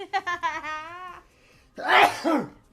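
A single sneeze, preceded by a drawn-out wavering vocal inhale and ending in a sharp, loud burst up close.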